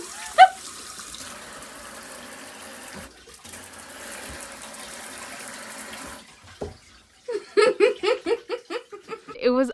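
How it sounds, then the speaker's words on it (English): Water gushes steadily from a tap in an off-grid cabin for several seconds, close and constant after a short thump. After a brief pause, bursts of delighted laughter follow. "honestly like the best feeling ever to see water coming out of that tap"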